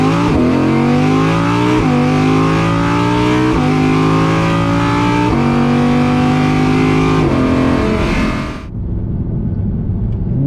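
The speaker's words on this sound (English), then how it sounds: "And you gotta love how much character that V10 has." An Audi R8 V10 Performance accelerates hard, its V10 climbing through several gears in rising surges broken by quick shift breaks, loud and close, before the engine note cuts off abruptly near the end.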